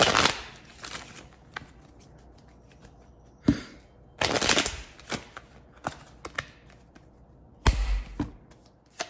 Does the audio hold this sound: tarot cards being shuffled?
yes